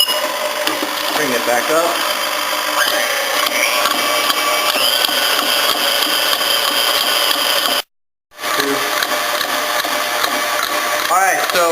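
An electric mixer beats eggs for mille-feuille batter, giving a steady, close whirring motor drone that cuts out for a moment and then resumes, while a person talks briefly over it.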